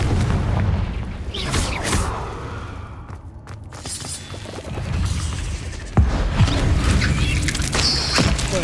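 A fiery Confringo spell blast from Hogwarts Legacy booms amid loud, dense game combat noise, the explosive rumble sustained throughout, with a sharp fresh burst near the end.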